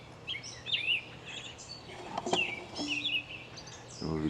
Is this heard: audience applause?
no